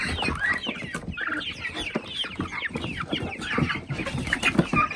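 Several three-month-old pullets cluck and chatter nearby on a farm, overlapping calls rising and falling continuously with no talking.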